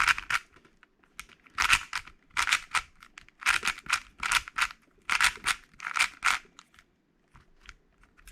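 A Moyu RS4 M speed cube is turned by hand, giving close, crisp plastic clicking in quick rhythmic clusters separated by short pauses.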